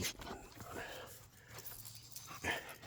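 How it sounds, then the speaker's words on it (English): A dog gives a few faint, distant barks and whimpers amid outdoor background noise. "barking wanting to play."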